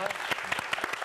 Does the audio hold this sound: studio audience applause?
yes